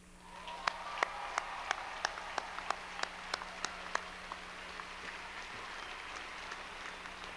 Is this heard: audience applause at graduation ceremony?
yes